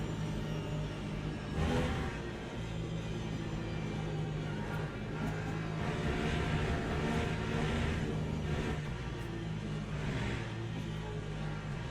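Steady droning engine of an LMP3 race car in Le Mans Ultimate at Paul Ricard, holding a continuous rumbling tone down a straight, with a brief louder swell near the start.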